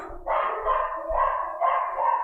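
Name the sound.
dogs barking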